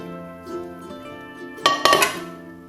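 Sambal ingredients tumble into a stone cobek mortar with a few quick clinks and knocks, close by, over a faint tonal background.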